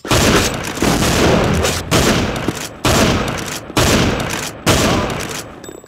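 Video game combat sounds: a series of loud explosive blasts and bursts of gunfire, arriving roughly every second in repeated booming waves with short gaps between them.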